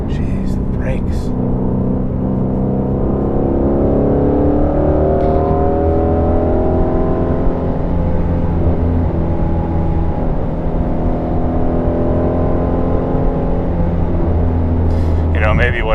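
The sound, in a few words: Ford Shelby GT350 driving on backroad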